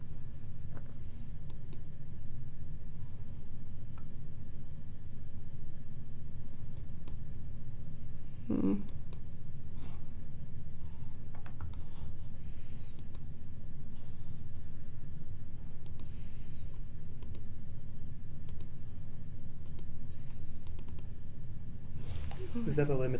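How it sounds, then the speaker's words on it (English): A computer mouse clicks through highlighted sections of a SmartBook online textbook, a few sparse, faint clicks spread over a steady room hum, with a voice talking at times. "clicking to the next highlighted section."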